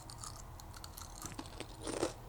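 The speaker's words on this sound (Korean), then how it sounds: "이제 포스트 콘프라이트를 먹어볼게요" Close, crisp crunching as fried cornflakes (Post Corn Flakes) are bitten and chewed, with a louder crunch near the end.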